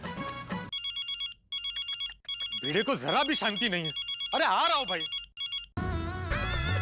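A telephone rings in repeated electronic trills, loud and close, while someone speaks over it in a comic household scene; a brief music sting closes the moment.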